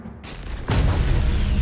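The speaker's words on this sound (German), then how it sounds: "Eine Explosion?" A starship explosion in the Tyranid space battle game Battlefleet Gothic: Armada 2 erupts as a sudden loud boom that swells into a sustained roaring rumble, following a brief burst of crackling noise.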